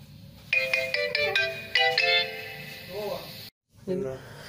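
A phone ringtone plays a bright, repeating melodic pattern of tones for about three seconds, loud and close indoors, then breaks off and starts again briefly after a short gap.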